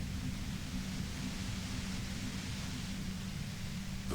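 Dense, violent white noise near a compressor in the Disco Elysium video game, a steady, loud hiss with a deep low rumble underneath, unbroken and without voices.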